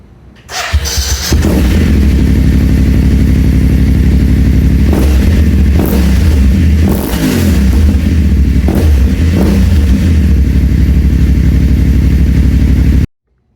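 A BMW F750GS motorcycle with an aftermarket exhaust cranks and fires up, then runs loud and close with a deep, throaty exhaust rumble and a few brief revs.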